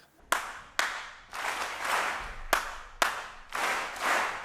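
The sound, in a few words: people clapping for clever students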